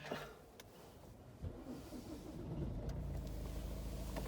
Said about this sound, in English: Car starts up just fine, no warning lights, that's what we like to see.